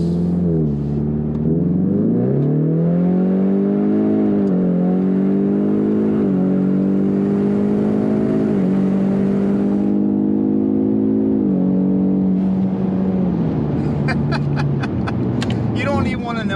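A Ford Mustang EcoBoost HPP accelerates hard, the engine note climbing through successive gears as a loud, continuous in-car roar with rising pitch sweeps, while a voice is heard over it toward the end.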